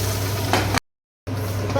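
Onions sautéing in a pan for tomato rice, a close steady sizzle that cuts out briefly to silence before resuming, no talk.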